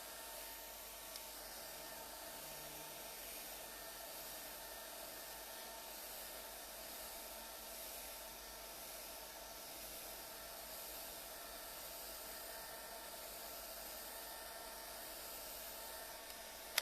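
A hair dryer blows steadily to dry paint on a triple switch plate decorated with a painted rose, a continuous close, even whoosh with no talking.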